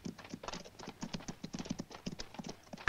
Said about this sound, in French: Butch, voilà 2 cavaliers qui arrivent.